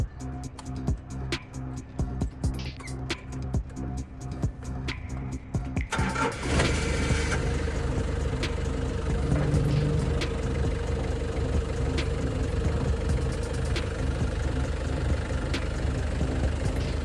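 Forklift engine cranking with rapid ticking, then catching and settling into a steady close idle drone that runs on continuously, with no talking.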